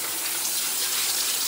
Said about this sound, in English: I'm going to go over to my sink here and I'm simply going to rinse it